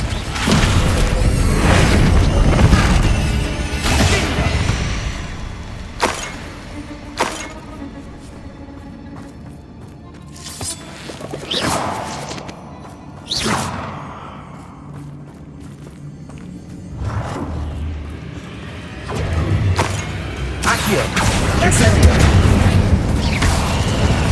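Fire and blasting spells go off in the Hogwarts Legacy video game on PS5, a long run of heavy booms, crackling bursts and crashing impacts that come in waves, loud and close, with a few brief quieter gaps between volleys.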